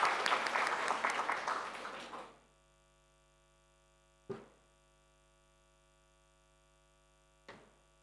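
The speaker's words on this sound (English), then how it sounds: "Please join me in giving a warm round of applause to Professor Chris Rudd." Audience applause at a research convention welcomes a keynote speaker, a dense clapping burst for about two seconds that quickly dies away, followed by quiet room hum and two sharp knocks.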